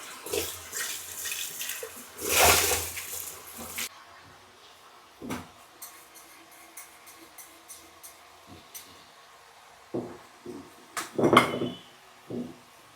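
Water runs from a tap at the start as a salt container is washed under it, followed by scattered soft knocks and clinks of handling in a quiet room.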